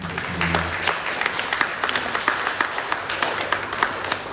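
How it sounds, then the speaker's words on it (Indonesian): Loud, steady applause fills a chapel during a Mass celebrating a nun's 60 years of religious life, with many hands clapping together in a dense, sustained wash that carries on without a break from start to finish. "Kita beri tepuk tangan yang meriah."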